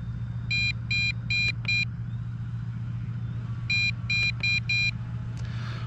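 Two bursts of rapid high-pitched beeping, four quick beeps each, repeating over a steady low hum; loud and close. A Snaptain SP700 drone transmitter warning of low battery.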